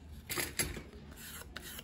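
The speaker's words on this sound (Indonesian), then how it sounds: "ini kita amplas dulu sedikit ya, untuk supaya lem bisa nempel" Sandpaper scrubbing styrofoam for a rubber-powered Hangar Rat model airplane: a few soft, dry rasping strokes, close and quiet, with no talk over them.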